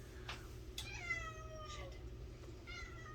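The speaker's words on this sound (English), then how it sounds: "here comes a cat" A cat meows several times in drawn-out, rising-and-falling calls over steady low background hum, fairly close and clear with no talk over it.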